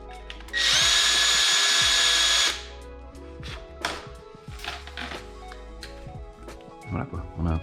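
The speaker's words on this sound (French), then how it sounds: "je l'ai monté sur ma perceuse parce que j'en ai marre de faire la main." A loud power drill whirs steadily for about two seconds, then stops, followed by scattered clicks and handling noises.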